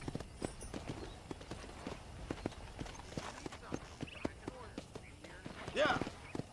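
Horse hooves clip-clop in Red Dead Redemption as the rider gets used to the controls, a steady run of sharp hoofbeats under a faint game soundscape, with a brief louder burst near the end.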